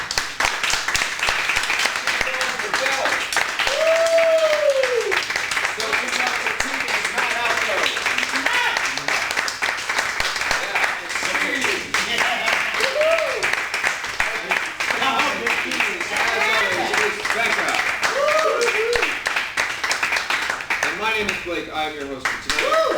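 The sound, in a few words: audience applause for an improv performer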